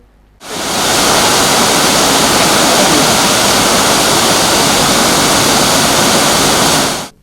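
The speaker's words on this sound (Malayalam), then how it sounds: "ഡാമിന്റെ സ്ലൂയിസ് ഷട്ടർ ഉയർത്തി വടക്കാഞ്ചേരി പുഴയിലേക്ക് വെള്ളം തുറന്നുവിട്ടു" Water gushing from a raised sluice gate at a dam into a river, a loud, steady roar that cuts in abruptly, holds evenly and then stops sharply.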